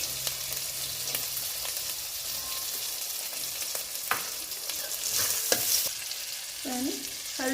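Onion, ginger-garlic paste and tomato fry and get stirred in a hot pan: a steady close sizzle with occasional sharp scraping clicks of the spoon toward the end, no talking.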